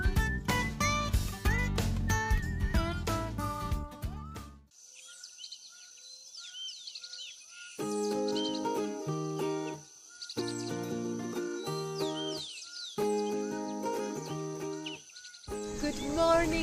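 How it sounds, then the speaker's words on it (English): Birds sing in the morning beside a lake, with short, clear repeated calls in bursts over a quiet background and occasional pauses between phrases. "We woke up to the sound of the birds."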